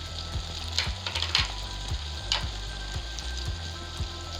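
Chilli, tomato and soy sauces sizzle in a hot pan while a utensil stirs them, producing a dense, continuous frying hiss with quick scraping clatters and light knocks.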